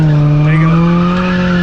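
A car drifting with its tires skidding, the engine held at a high, steady rev that rises slightly in pitch, loud and close throughout with no one talking.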